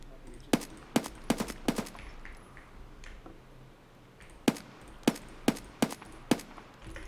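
Gunfire in the video game Escape from Tarkov: a quick burst of four sharp shots, a pause, then another rapid string of about six shots, crisp and close over quiet background.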